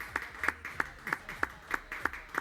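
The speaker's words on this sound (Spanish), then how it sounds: "Vamos a presentar y a darle un fuerte aplauso a nuestro invitado, Crisólogo Cáceres, presidente de Aspec" Audience applause for a guest, Crisólogo Cáceres, president of Aspec, at a Consumer Day 2016 event: a sparse, steady run of about eight distinct claps in a regular rhythm, fairly close and moderate in level, with no talk.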